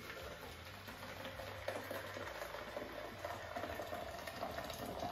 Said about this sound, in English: So now I'm going to add my boiling water.